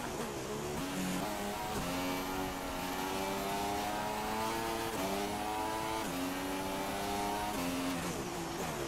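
Formula One racing cars in F1 2016 on PS4 rev hard through the gears, rising engine pitch repeatedly climbing and dropping with each shift, loud and continuous across the whole stretch.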